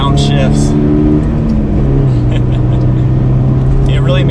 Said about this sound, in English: Rev matching downshifts.